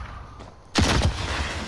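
Gunshots in Call of Duty: Modern Warfare, a faint shot followed by a sudden loud burst of gunfire with a couple of sharp cracks and a rumbling tail.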